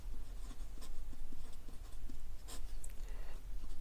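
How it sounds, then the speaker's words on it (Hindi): A pen scratches steadily across paper while a math solution is written out by hand, close and continuous over a constant low hum. "मैं सॉल्यूशन लिखता हूं"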